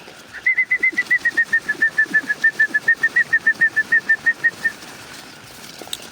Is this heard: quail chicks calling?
yes